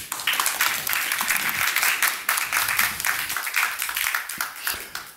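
An audience at a university doctoral presentation event applauds a PhD student, a steady sustained burst of many hands clapping close by with no talk over it.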